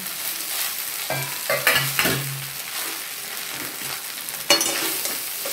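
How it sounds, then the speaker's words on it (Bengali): Soaked vegetables for rice noodles are stir-fried in a pan, with a steady close sizzle and several sharp scrapes and stirs of a spatula against the pan. "এবার এটাকে আমি ভালো করে একটু ফ্রাই করবো।"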